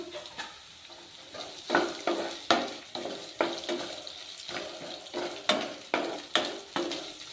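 Dry red chilies fry in a pan as pepper chitranna is made, with a steady sizzle and repeated scraping stirs in a loose rhythm, close up and fairly quiet, and no talking.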